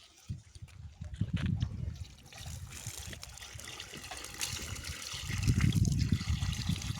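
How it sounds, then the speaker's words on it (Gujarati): Irrigation water flows into a farm field: a continuous trickling and gushing stream, moderately close, with low rumbling surges and faint background noise. "ચાલુ થઈ ગયું પાણી ભરવાનું થોડીક વારમાં પાણી આપણા ખેતરમાં આવી જશે"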